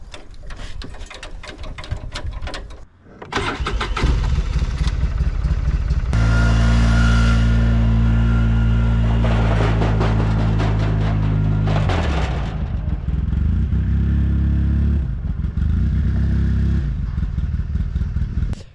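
A vehicle engine starts and moves a trailer outdoors: faint clattering first, then a loud steady idle and rumble that holds for several seconds before easing back to scattered clunks and rattles, with no talking.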